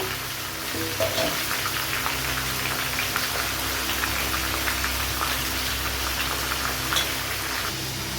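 Pointed gourds and potatoes sizzle in hot oil in a frying pan for a Bengali aloo potol curry, a dense, steady crackle that stays loud and close throughout without talk.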